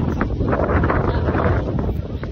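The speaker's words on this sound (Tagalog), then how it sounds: "yun talaga yung time na ito ay malakas ang hangin" Strong wind roars and buffets the microphone continuously at the Kapurpurawan windmills beach in Ilocos Norte, loud and close, with a dense broadband rush that never lets up.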